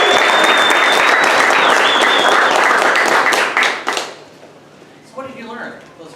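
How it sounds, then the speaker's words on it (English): Loud audience applause fills a startup weekend event hall for about four seconds, dense and steady before breaking off abruptly, followed by quieter scattered claps and a few voices. "Give yourselves a round of applause."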